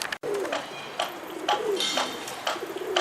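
Pigeons on a rooftop coo in soft, repeated calls at a steady rhythm, fairly close, with faint outdoor background and no talking.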